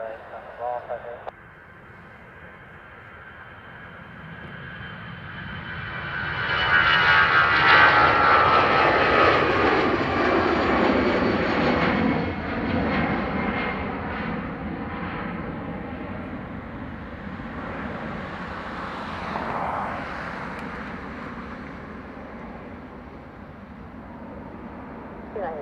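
An Aer Lingus jet departing Dublin Airport for Birmingham, a broad engine roar swelling after a few seconds, peaking, then fading into the distance, with faint radio chatter and a voice talking over it.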